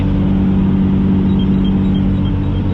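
A 12-valve diesel truck engine running at half throttle while hotshotting, a loud, steady low rumble with a constant drone and no rise or fall, heard from inside the cab.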